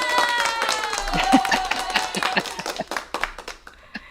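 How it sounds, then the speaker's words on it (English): Studio audience applause on a talk show welcoming a guest, a steady wash of clapping hands with some cheering voices mixed in, fairly loud and sustained for a few seconds before tapering. "A round of applause here for you."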